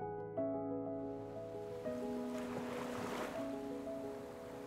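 Waves washing onto the beach at Agonda in Goa, a soft, distant surf swell rising and falling under steady tonal background hum.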